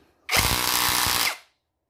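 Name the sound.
Tanzu cordless drill driving a wood screw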